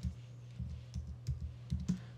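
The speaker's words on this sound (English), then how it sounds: "I could just go ahead and start typing the checklist." Fingers type on a computer keyboard in a quick, irregular run of soft clicks and taps, close and clear, with no talking.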